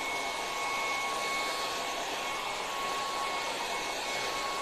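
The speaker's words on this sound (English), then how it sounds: "hit that with a hairdryer." A handheld hairdryer blowing on freshly glazed stencil work on furniture, a steady, loud, close whoosh with a thin whine that holds evenly throughout without pause or talking.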